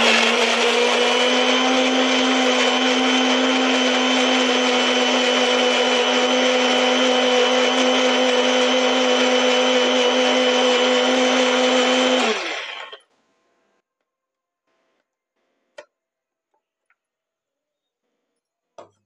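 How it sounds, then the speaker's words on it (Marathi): A blender grinds tomatoes together with crushed peanuts into a paste, a loud, steady whirring drone for about twelve seconds that then cuts off, followed by silence and a couple of faint clicks. "आता शेंगदाण्याचं कूट पण आपण टोमॅटो सोबतच बारीक करूया."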